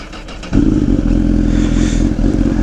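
A sport touring motorcycle engine cranks briefly, then catches and settles into a steady, loud idle close by.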